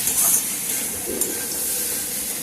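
Potato and bitter gourd curry being stirred in a pan with a little sugar, a steady soft sizzle and scraping with a brief louder stir in the middle, no talk.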